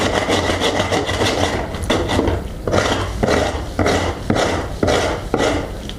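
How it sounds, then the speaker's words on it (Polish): Wood on a roof wall plate is scraped by hand before blockwork, with a loud, close rhythm of harsh rasping strokes repeating about twice a second. "No więc można to skrobnąć."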